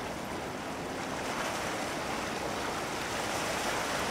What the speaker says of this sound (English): You see the water is so calm. Very low waves.